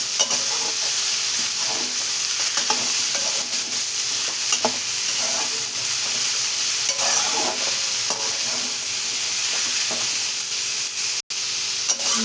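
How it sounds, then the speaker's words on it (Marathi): Cabbage and potatoes frying and sizzling in a pan while being stirred, a constant loud hiss with scraping stir sounds throughout, no talk. "तर आता आपण कोबी टाकून घेऊ यामध्ये"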